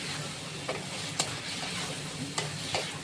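Vegetables being sautéed in a pan for a home-cooked curry, a soft continuous sizzle with a few scraping stirs of the spatula at irregular intervals, close and fairly quiet.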